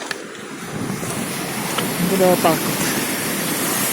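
Ocean waves wash steadily into Spry Bay, a broad continuous hiss of surf with a brief spoken phrase and a few faint tonal sounds over it.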